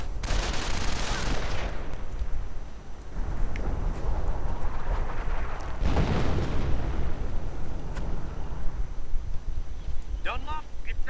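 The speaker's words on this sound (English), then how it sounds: "we are now seeing an on-map howitzer against the Wehrmacht" On-map howitzer artillery firing against Wehrmacht forces in a WWII strategy game: heavy booming blasts and rumbling battle noise run continuously, with a voice talking over the fighting.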